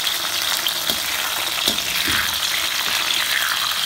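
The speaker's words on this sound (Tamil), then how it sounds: "கிண்டிட்டு இப்போ டொமேட்டோவை வதக்கணும்." Tomatoes and onions being stirred and sautéed in a pan for a fenugreek curry, a constant close sizzle with occasional spoon scrapes and clicks against the pan.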